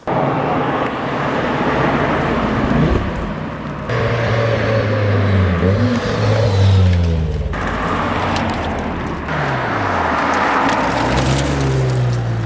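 A straight-piped BMW M4 F82 driven hard on mountain roads, its loud exhaust rising and falling through repeated revs and upshifts, with a steady wind and road roar underneath and no talking.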